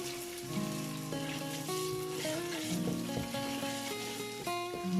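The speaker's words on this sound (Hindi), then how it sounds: "इसी ऑयल में हम ये 1 टेबलस्पून कुटी हुई अदरक ऐड करेंगे।" Crushed ginger, about a tablespoon, sizzling in leftover frying oil from an okra and ridge gourd dish, a steady soft hiss beneath prominent background music.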